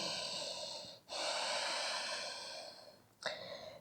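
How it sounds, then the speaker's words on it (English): Deep breathing during a yoga class, two long, close, airy inhale-and-exhale cycles with a short pause between, soft and unhurried with no speech. "One more breath."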